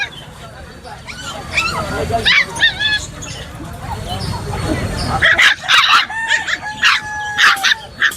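Puppies at a busy weekly pet market yip, whimper and bark in short high bursts, with a louder cluster of cries near the end, while people talk and haggle nearby.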